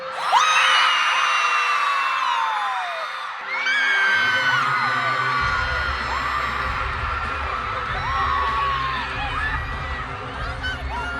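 Concert crowd of fans screaming and whooping at a show in New York City, loud and continuous close around, with shrill high cheers swelling in waves over booming music underneath.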